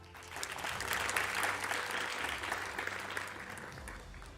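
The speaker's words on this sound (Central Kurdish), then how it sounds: "چەپڵەیەک" An audience at a mathematics competition applauds during the announcement of the rankings, a sustained, even burst of many hands clapping that stays moderately loud throughout.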